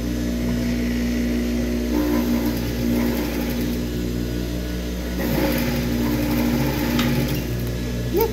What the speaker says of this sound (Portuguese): a gente passa o zigue-zague overlock em toda a pecinha